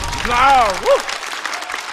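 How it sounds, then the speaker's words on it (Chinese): At a stand-up comedy show, an audience breaks into dense, steady applause. A voice briefly speaks over the start before the clapping carries on alone. "再次掌声送给"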